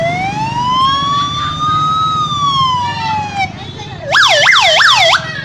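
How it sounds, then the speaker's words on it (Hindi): Ambulance siren from a 108 emergency service vehicle, a long rising-and-falling wail that switches near the end to a rapid repeating yelp, loud and close over a low rumbling background. "108 की आवाज।"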